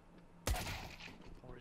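A single sharp gunshot cracks out in Counter-Strike: Global Offensive and trails off into a short, rumbling echo. It is fairly faint overall, with faint game noise around it.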